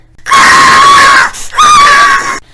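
A voice imitates a crowd screaming with two long, loud, high-pitched shrieks separated by a short breath.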